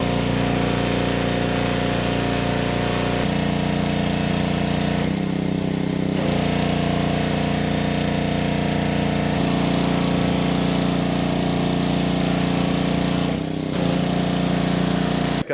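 A pressure washer runs steadily while cleaning a John Deere combine with John Deere soap, its motor droning loud and close throughout, with brief dips and shifts in tone as the spray is moved around.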